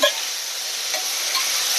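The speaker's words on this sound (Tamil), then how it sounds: "எல்லாத்துக்கும் படுற மாதிரி இப்படி நல்லா கலக்கி வச்சுட்டு" Potato fry is stirred in a pan, a short, close burst of steady sizzling hiss with a soft scrape at the start.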